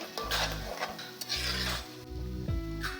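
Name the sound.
masala and tomatoes frying and being stirred in a pan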